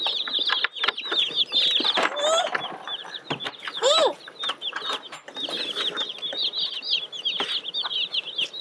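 A brooder box full of meat bird chicks peeping and chirping continuously, a dense chorus of high, close calls with scattered louder cheeps and some handling noise.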